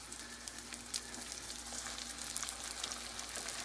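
Fish cakes fry in a pan of hot oil, giving a steady, soft, continuous sizzle and crackle with no talking.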